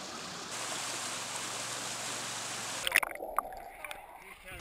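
White water of a natural organic swimming pool pours from the brimming upper pool down a run to the lower pool, a steady broad rush at moderate level with a few splashes and knocks near the end.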